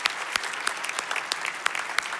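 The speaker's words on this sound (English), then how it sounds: "let's give a big applause for everyone who was nominated" Audience at a community award show clapping for nominees and winners, a dense, steady round of applause from a moderate crowd with a few sharper individual claps standing out.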